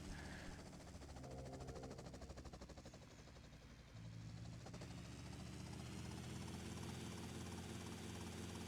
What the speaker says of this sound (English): he does get in the helicopter